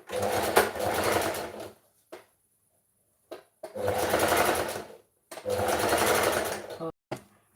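A sewing machine stitches fabric lining in three loud, close bursts of rapid mechanical whirring, separated by brief pauses.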